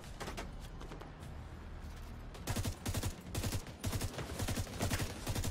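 A minigun firing in the video game The Division 2, heard as dense, continuous rapid-fire bursts that grow louder and more punchy midway, layered over a constant background of battle noise.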